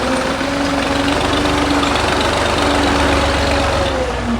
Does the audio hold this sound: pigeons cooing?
no